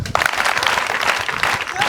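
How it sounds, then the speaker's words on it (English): An audience applauds at a school ceremony honoring a guest, a dense burst of steady clapping throughout, with a voice speaking over it. "Why don't we clap?"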